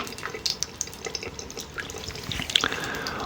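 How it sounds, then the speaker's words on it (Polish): Water pours steadily from a tap at a comfortable warm temperature, a continuous close hiss with small splashing drips throughout, no voices. "odpalam kran i lecimy jest woda przyjemna"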